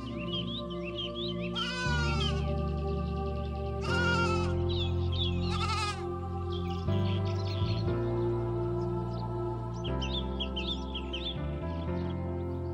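Sheep bleat again and again in a close, loud run of wavering cries, with short pauses between them and several overlapping voices. No one speaks.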